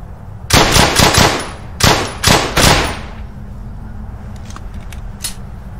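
Machine gun fire in the World War II video game Brothers in Arms Hell's Highway, several loud close rapid bursts in a row, then trailing off to a low rumble with distant scattered shots.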